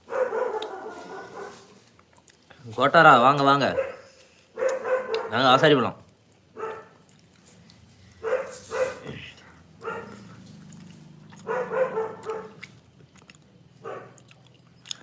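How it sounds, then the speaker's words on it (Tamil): A dog barks in a few loud, close bursts between stretches of a person talking, followed later by fainter yips. "நாய்"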